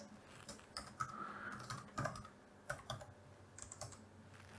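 Code being typed on a computer keyboard: quiet, irregular clusters of close key clicks with short pauses between bursts.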